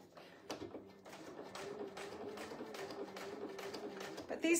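Domestic sewing machine stitching laminated, wipe-clean cotton fabric with a long stitch length, giving a quiet, rapid run of clicking needle strikes with a soft motor hum underneath.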